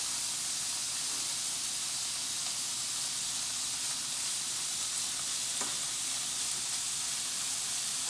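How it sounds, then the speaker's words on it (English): Filet mignon browning in a hot pan already used for ground beef, a steady close sizzle and hiss of frying with faint occasional pops, no voices over it. "Now we're going to brown our filet mignon in the same pan that we just got done with our ground beef."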